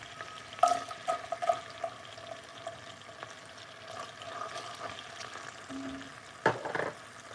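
Ginger and garlic fry in a pan for a spicy chicken adobo, giving off a soft, steady sizzle with a few light clinks and stirring sounds, quiet and close.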